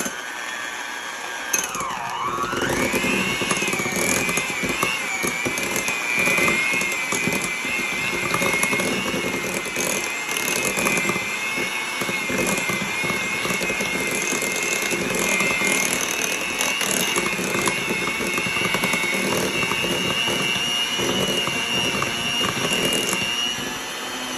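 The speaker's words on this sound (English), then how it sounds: "I'm just using the hand mixer for the frosting" An electric hand mixer whirring through frosting for a vintage tomato soup cake, a steady close motor drone with a whining pitch that dips at the start then holds, and rattling beaters grinding continuously throughout.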